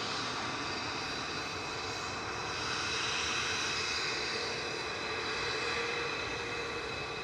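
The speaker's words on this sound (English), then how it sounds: "Aer Lingus UK just coming over the threshold to the area" An Aer Lingus UK Airbus A330-300 from New York JFK roars steadily over the runway threshold on landing at Manchester Airport, a broad continuous jet drone that swells slightly midway with no voices.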